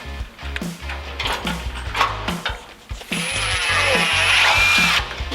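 A power drill whirs in short bursts, several quick pulses followed by a longer, louder sustained run with a rising whine.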